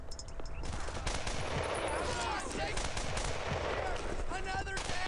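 Rapid machine-gun bursts and scattered rifle shots fill a World War II combat scene in Brothers in Arms: Earned in Blood, dense and continuous at close range with overlapping fire throughout.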